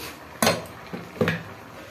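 A spoon clanks against a pan while mutton is stirred with salt for Deoghar-style mutton atthe: three short metallic scrapes and knocks, close and fairly crisp, with quiet gaps between them.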